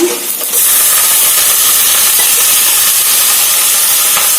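Cluster beans tossed into fried onions in a hot pan: after a brief quieter moment, a loud, close, continuous hiss of sizzling oil bursts up and holds steady.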